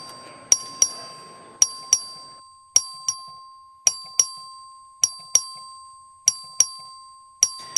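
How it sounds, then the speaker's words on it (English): A voting bell in the Texas House chamber, rung by the clerk, gives a series of sharp metallic dings in pairs and triplets, each ringing out briefly. A steady tone and faint murmur sit beneath. "The clerk will ring the bell."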